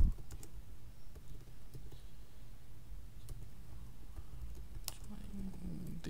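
Computer keys click away at a steady, moderate pace under low background hum on a Windows machine, a scattering of light taps and sharper key strikes close by, with no talking over the typing.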